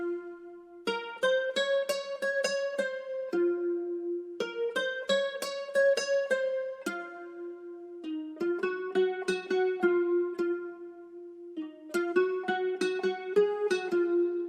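An Arturia guitar plays the smooth guitar preset, finished with subtle reverb, for a trap beat. Plucked chord phrases repeat in steady groups with short gaps between them, clean and up front with no voices.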